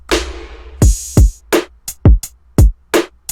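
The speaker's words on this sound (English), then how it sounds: "And then I have a reverbed version of that snare leading into the drum loop" A punchy chill pop drum loop plays alone: booming kicks, crisp hi-hats and a snare, opening with a washed-out reverbed snare hit, steady and close.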